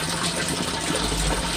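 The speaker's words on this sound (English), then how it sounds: "That seems to drain the water real well into the system." Rainwater runs steadily into a French drain system by a lower garage during rain, a close, continuous rushing wash of water with no pauses or voices.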